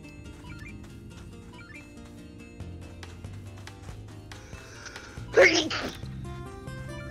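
A single short, sharp sneeze bursts out loud and close near the end, over a steady background of game music and sounds.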